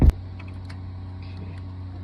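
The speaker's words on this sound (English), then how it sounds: "You can hear my Cummins running in the background" A Cummins diesel truck engine idles as a low, steady hum in the background, preceded by a brief sharp knock at the start.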